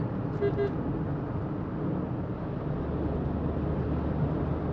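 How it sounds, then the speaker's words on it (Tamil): A car engine drones steadily on a hill road, with a low continuous rumble and road noise throughout and a brief horn-like toot near the start. "இன்ஜின் சவுண்ட் அதிகமாக இருக்குது"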